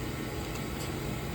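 A home boiler running, a steady broadband rumble and hiss with strong low end that continues without a break, close and fairly loud, with no voices.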